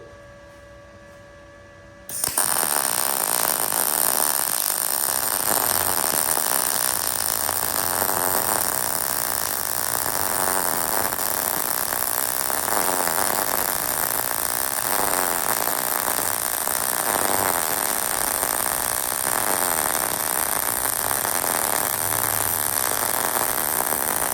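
An Arc Captain MIG 200 welder lays a bead at 17.5 volts and 220 inches per minute wire speed, starting abruptly after a quiet moment and holding a loud, steady crackling buzz for over twenty seconds, close up.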